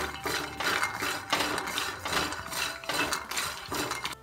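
Dry peanuts with a little salt roasting in a pan and stirred with a utensil, giving a continuous clattering, scraping rattle with repeated metallic clinks, close and fairly loud with no talking.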